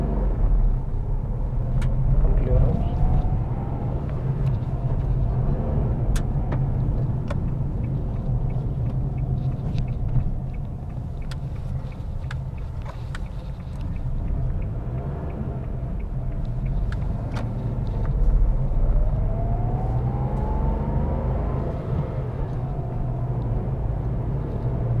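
Renault Kiger SUV driving on a road, heard from inside as a steady low engine and road rumble with tyre noise and a couple of rising engine notes as it accelerates, continuous throughout, with no talk.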